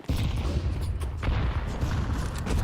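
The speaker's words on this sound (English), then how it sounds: "Flashbang." A flashbang grenade detonating in Counter-Strike 2, a sharp burst at the start followed by a sustained loud, rumbling, ringing roar with heavy low-end that holds for the whole stretch.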